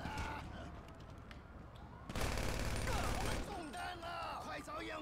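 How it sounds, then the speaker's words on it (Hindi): Rapid bursts of gunfire in the GTA 5 video game, with sustained automatic fire and a dense, loud volley in the middle, layered over game sound effects and background music. "यहाँ तो गोलियों से गोलियाँ चल गई"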